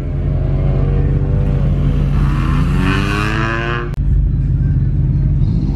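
A car drives in at a car show meetup outside the Anaheim Convention Center, its engine a loud steady rumble that climbs in a revving rise and then eases, with a sharp knock near the end.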